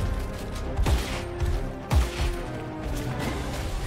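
Two heavy sniper rifle shots in a video game ring out about a second apart, sharp booming cracks followed by quieter background noise.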